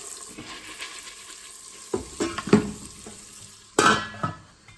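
A lid is lifted from an Instant Pot and popcorn kernels inside are stirred, with scraping and light clatter over a steady background sizzle.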